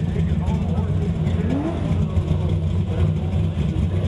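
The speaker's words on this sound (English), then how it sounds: "he's going through the gear changes" At a drag strip, a racing car's engine drones and revs through its gear changes beneath someone talking steadily over it, the mid-pitched roar staying constant throughout.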